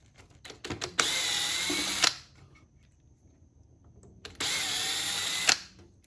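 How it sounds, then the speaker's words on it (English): Two long bursts of a power drill whirring steadily, removing screws from a solid-state stereo receiver, each lasting about a second, with a few short clicks and taps before the first. "we just need to remove these screws. I'm just going to use my drill for that."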